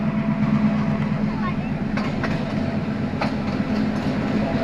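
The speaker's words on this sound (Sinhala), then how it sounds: "නයින් ආච් ගොඩාක්ම ලස්සන ට්‍රේන් එකක් එනකොට" A train rumbles steadily nearby with a low drone as it approaches the Nine Arch Bridge in Sri Lanka, occasional squeaks and clacks from the wheels rising over the hum.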